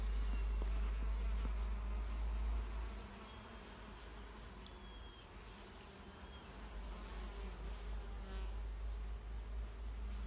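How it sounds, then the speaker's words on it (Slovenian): Bees buzz around the large flowers of a crape myrtle (Lagerstroemia indica) outdoors in Majšperk, Slovenia, a continuous close, dense drone of many wings with a low hum that softens briefly midway before swelling again. "Jaz se opravičujem, čebelice, ker vas motim pri dopoldanski malici."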